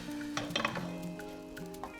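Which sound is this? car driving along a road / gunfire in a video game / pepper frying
pepper frying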